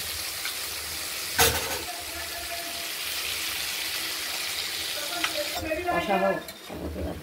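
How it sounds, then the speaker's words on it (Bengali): Potatoes fry with spice masala in a pan, a steady close sizzle with one sharp clank of the utensil early on and brief talking near the end. "এই মশলাটা ঠিক কষিয়ে নেওয়ার মতো কষিয়ে নিতে হবে মশলাটাকে।"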